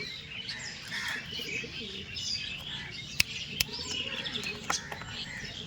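Madras pigeons, including white ones, cooing and chirping at a home pigeon sale, a busy close flock with a few sharp clicks or wing sounds and a voice talking nearby.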